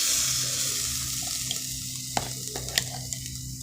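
Ground onion-tomato masala tipped into a hot oiled pan sets off a steady sizzle, with a few sharp clicks and spoon knocks against the pan near the end, close and without talk.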